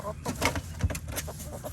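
A chicken clucks on a farm, giving several short, soft, irregular clucks close by in a straw-filled coop, with faint background sounds.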